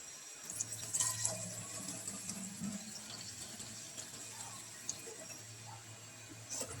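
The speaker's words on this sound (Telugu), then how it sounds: "వాటర్ బాటిల్స్ అయితే వాటర్ నింపుకుంటున్నాను." A kitchen tap runs steadily into water bottles being filled at home, a soft continuous rush with a faint low hum underneath, heard fairly quietly and without talk.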